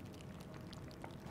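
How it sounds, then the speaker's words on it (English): Ambient sound from Amnesia: Rebirth, like water boiling, plays as a faint, continuous bubbling and pouring wash with no talk. "boiling sound, I don't even know what you'd call it"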